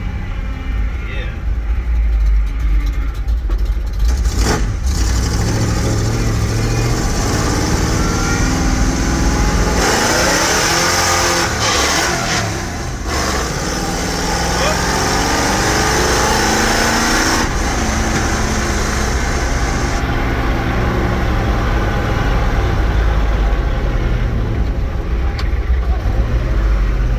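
A first truck, recently worked on, with its engine running steadily and revving as it is driven; loud continuous engine drone rising and falling throughout, with people talking over it.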